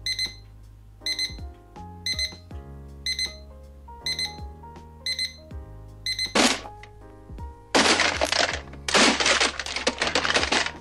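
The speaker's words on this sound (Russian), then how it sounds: "Также отдельно хотелось бы отметить особо бодрящий сигнал встроенного будильника." The built-in alarm clock of a Bresser weather station sounds a series of short, sharp beeping bursts in a regular pattern, growing into dense, loud, rapid electronic chirps toward the end.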